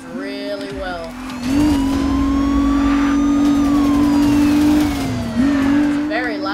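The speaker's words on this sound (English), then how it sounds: "It's a very loud car." A loud Nissan engine revs hard in a driving video game, holding a steady high drone that bends up and down in pitch, with brief talk at the start and end.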